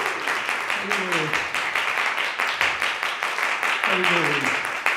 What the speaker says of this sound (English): let's thank our speaker for today with a big round of applause